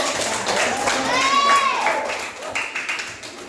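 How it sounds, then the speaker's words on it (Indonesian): Schoolchildren clap their hands together in an elementary school classroom, a busy, fairly close patter of claps sustained throughout, mixed with children's voices and chatter. "Ya, tepuk tangan dulu."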